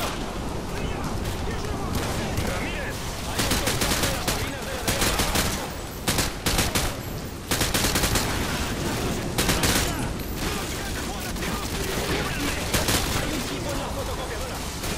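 Gunfire in the video game Call of Duty Modern Warfare 2: dense, continuous bursts of automatic fire and shots run loud throughout, mixed with battle noise and voices.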